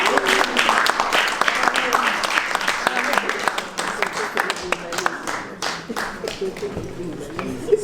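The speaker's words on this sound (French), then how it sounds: "Sous vos applaudissements." Audience applause at an award ceremony in the French Senate: many hands clapping loudly at first, then thinning into scattered individual claps toward the end, with voices murmuring underneath.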